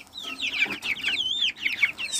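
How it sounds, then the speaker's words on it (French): Several chickens cluck and chatter in quick, overlapping bursts, close by, with a continuous busy rhythm and no talking. "Les gris, c'est deux poules."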